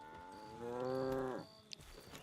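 A cow in a Western role-playing video game lets out a single drawn-out moo that swells and then falls away, fairly faint and alone.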